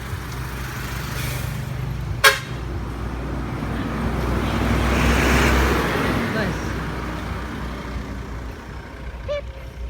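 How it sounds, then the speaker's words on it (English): A bus rolls past on a nearby road through steady traffic rumble, with a sharp brake or horn burst near the start and the engine noise swelling and fading as it goes by, with voices faintly present. "Here's the bus."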